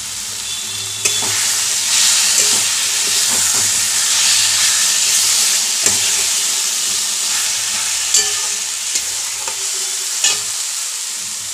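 Fried potatoes tipped into a hot pan of spiced boal fish curry base, loud steady sizzling and hissing up close, with a few sharp scrapes and clatters as they are stirred, and no talking.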